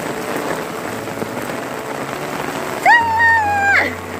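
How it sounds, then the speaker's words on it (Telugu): Heavy rain pours down steadily, a dense, loud hiss of drops hitting surfaces, with a brief high tonal whine near the end. "ఎంత పెద్ద వాన పడుతుందో చూడండి"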